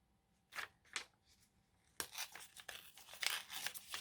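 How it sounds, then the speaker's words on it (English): Sheets of vellum paper are torn by hand in quick close ripping strokes, two short tears followed by a longer crinkly run of tearing, quiet with no talk. "this vellum tears really weird. It really tears like in a straight line"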